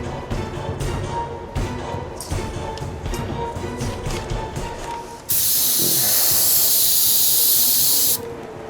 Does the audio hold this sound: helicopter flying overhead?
no